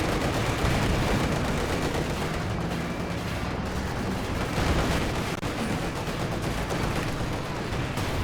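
In the World War II strategy game Company of Heroes 2, dense battle noise rumbles continuously, with mortars, gunfire and explosions blending into a loud, unbroken wall of combat sound and no distinct single shots.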